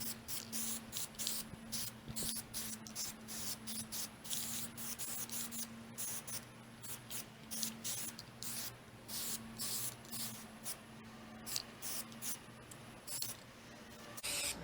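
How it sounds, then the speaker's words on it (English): White paint sprayed from an Ace rattle can onto a DIY small parts sorting tray, a close series of short hissing bursts in a quick, irregular rhythm, with faint rubbing and handling noises in between. "Now we're ready to spray paint this thing."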